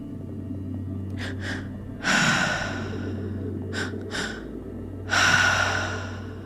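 Deep breathing during a breathwork exercise, with two slow rounds of audible inhales and longer, heavier exhales, close and clear over a low steady background hum.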